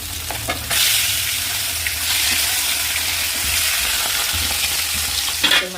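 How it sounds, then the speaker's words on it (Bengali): Pieces of snakehead fish fry in hot oil in a pan, producing a loud, dense, continuous sizzle with occasional spatter and utensil taps near the start and end, close up with no talk. "সুন্দর করে মাছগুলো ভাজা করে নিই।"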